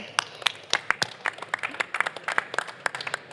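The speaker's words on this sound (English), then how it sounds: "Let's have a little round of applause for Robert." Small audience at an AV integrator roundtable panel giving a short round of applause, sparse distinct claps from a few people in a quiet room.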